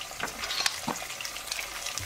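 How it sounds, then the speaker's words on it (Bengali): Onion frying in oil with cardamom pods, cloves, cinnamon sticks and bay leaves gives a quiet, even sizzle, broken by a few light stirring clicks. "3টা এলাচ, 3টা লবঙ্গ এবং 2টা দারচিনি এবং 2টা তেজপাতা দিয়ে আমি পেঁয়াজটাকে প্রথমে ভেজে নেব।"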